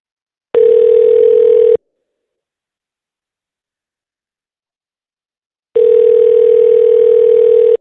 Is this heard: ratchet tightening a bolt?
no